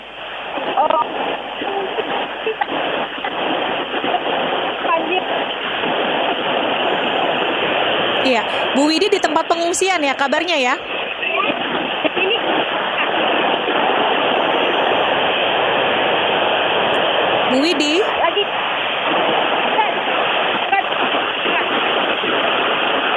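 Heavy rain during a flood in Padang comes through a phone line as a dense, steady hiss, with a voice and an interviewer talking over it, both muffled and breaking up.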